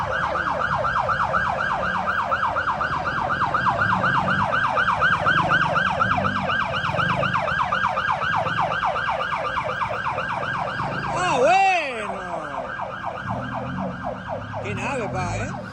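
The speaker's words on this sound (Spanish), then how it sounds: "Se suma una ambulancia." An ambulance siren wails in repeated rising and falling sweeps through Thai city traffic, loud and steady throughout, with a brief louder swell near the end and traffic rumble underneath.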